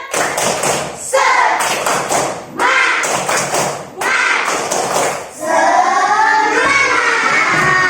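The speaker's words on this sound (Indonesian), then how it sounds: "Iya, semangat dulu. Tepuk semangat." Second-grade schoolchildren in a classroom doing a rhythmic spirit clap: loud bursts of patterned clapping and tapping in several phrases with short pauses, mixed with the children chanting together.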